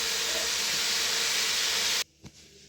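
Garlic and ginger paste frying in a pot for a Lahori white chickpea dish, a loud steady hiss that cuts off abruptly, leaving near silence with one soft knock.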